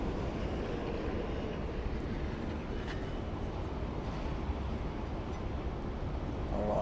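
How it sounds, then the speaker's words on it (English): Jetstar Airbus A320-200 taxiing at Sydney Airport, a steady low engine rumble and broadband roar held at a constant level throughout, fairly distant with light background noise and no clear talk. "Jetstar A320 on the move, and that Jetstar is 749"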